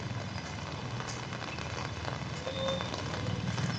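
Heavy rain falls steadily on a Saigon street at night, a dense, constant hiss of drops on pavement and surfaces with faint traffic underneath and no pauses.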